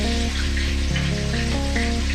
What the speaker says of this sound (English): Now we're cooking the fish for 5 minutes on each side